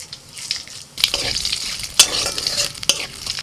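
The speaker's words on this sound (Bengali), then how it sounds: "কড়াইতে সর্ষের তেল দিয়ে ফোড়নে দিচ্ছি তেজপাতা শুকনো লঙ্কা আর একটু কালো জিরে" Bay leaf, dried chili and nigella seeds hit hot mustard oil in a kadai, starting with a sudden burst of crackling sizzle that continues with sharp spits and stirring clinks, heard close with no voices.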